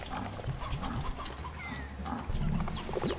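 Hens clucking in the Slime Rancher video game, a busy mix of short clucks and bird calls over a constant game background hum, moderately loud with no talking.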